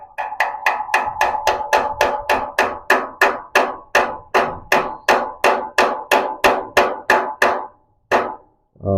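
A hammer strikes a motorcycle rotor bolt in a fast, even rhythm, about twenty sharp ringing blows, then two slower final hits after a brief pause.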